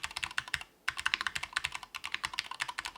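Typing on a Cherry red-switch mechanical keyboard fitted with swapped PBT and ABS keycaps: a steady run of close, crisp keystrokes with a brief pause near the start, no voices.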